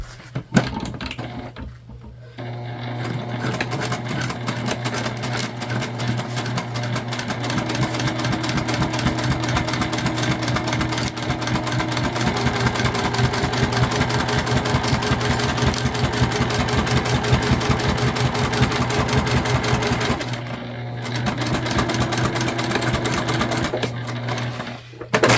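A Juki sewing machine stitches a structured bag, running loud and close in a long steady whirring rattle, with a short stop near the start and another brief pause later.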